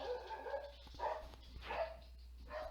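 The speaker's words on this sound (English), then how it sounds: "Sorry, that was my dog." A pet dog barks indoors in the background, several muffled yips and barks spread over a few seconds, faint and distant against a low steady hum.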